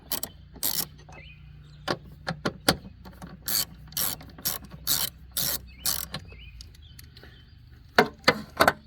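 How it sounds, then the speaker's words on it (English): A ratchet wrench clicks in quick bursts while loosening 10mm nuts on top of a 2008 Chevy Malibu coolant reservoir, sharp close ratcheting strokes separated by short pauses, with no talking. "We're going to loosen up these nuts on the top."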